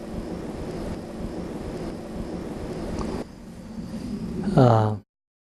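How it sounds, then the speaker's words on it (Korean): An airplane passing overhead makes a steady, broad rumbling roar that slowly swells. A voice cuts in briefly just before it ends. "it's the sound of the aeroplane"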